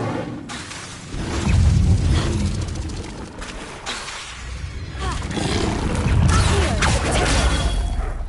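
Casting the Incendio fire spell in the Hogwarts Legacy video game makes a loud, roaring whoosh of flame that swells, dips, and surges again, with rumbling bursts throughout.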